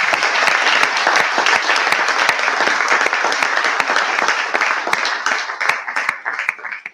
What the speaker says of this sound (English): please give a round of applause for Carolyn.